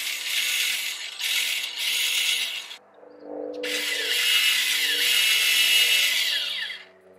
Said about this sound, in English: Right now I have the motor going in